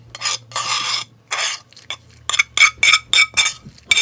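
Sautéed vegetables tipped into a pot for red lentil soup and stirred, with short bursts of scraping and clinking utensil-on-pot sounds coming in uneven rhythmic strokes, close and fairly loud, with no talking.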